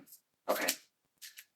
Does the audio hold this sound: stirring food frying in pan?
no